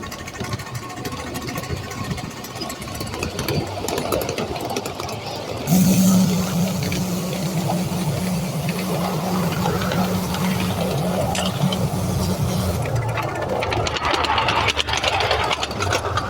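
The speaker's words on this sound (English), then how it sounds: "Just let the pump run." A pump runs steadily at a railway, a continuous mid-pitched mechanical drone with a low hum that holds even throughout, with no voices over it.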